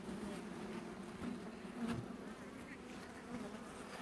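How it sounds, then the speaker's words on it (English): Bees drone steadily around a hive in spring, a continuous low hum of many insects that swells slightly now and then, fairly close and with no voices over it. "So the bees aren't even really taking that."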